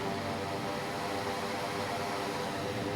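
A Quest Kodiak turboprop engine in the X-Plane 11 simulator drones as a steady, even roar with a constant broadband hiss and no change in pitch.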